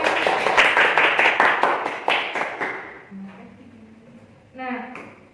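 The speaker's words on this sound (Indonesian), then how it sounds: "Tepuk tangan." Classroom applause for students rewarded for the fastest answers: a dense burst of many hands clapping in a steady flurry for about three seconds, fading out, followed by a brief voice.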